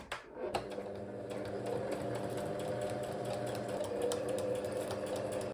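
A sewing machine sews a seam on a baby doll mini dress, starting with a click and then running in a steady, fast needle patter over a motor whir, fairly quiet but close and uninterrupted.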